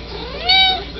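A cat meows once in a short, loud, tonal call close to the listener, with no talking over it.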